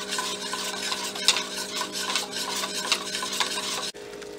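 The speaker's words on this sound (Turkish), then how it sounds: "Çok az bir şey daha koyuyorum suyundan. Ve karıştırmaya devam ediyorum." Tripe soup (işkembe çorbası) being stirred in a pot, a steady scraping, swishing rasp of utensil against metal with small clinks, continuous and close, ending with a brief dropout.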